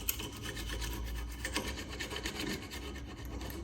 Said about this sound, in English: just scratch all the brake dust off.